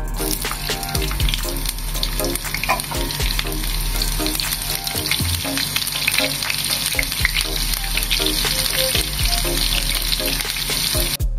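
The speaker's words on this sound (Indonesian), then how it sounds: "Tuangkan minyak secukupnya, goreng irisan bawang merah." Sliced shallots fry in a pan of oil, a loud, steady, dense sizzle with crackling and occasional stirring clatter, close up and continuous with no talking.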